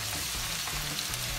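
Meat fries in oil in a pan for a meat sauce, giving a steady, close crackling sizzle that holds evenly through the short moment with no talking.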